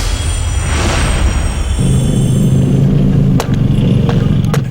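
Motorcycles on a Manila street corner near UN Avenue, a steady loud engine drone with a deeper idling tone joining midway, close by amid street noise and a couple of sharp clicks.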